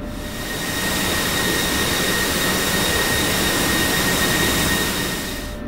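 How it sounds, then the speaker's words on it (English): Jet engine of an F-16C Viper in the DCS flight simulator game, a loud steady roar with a broad rushing hiss and faint high whine, swelling in at the start and easing slightly at the end. "Alright, shutting down the jet."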